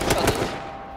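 Rapid burst of automatic gunfire in a first-person shooter game, several sharp close shots within the first third of a second, then a decaying echo tail.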